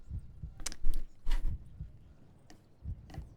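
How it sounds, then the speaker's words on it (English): A heartbeat sound effect in a video game pulses as soft, low, regular thumps, fairly close and muted, with faint crackly bursts between the beats. "I don't like the heartbeat sound terribly much."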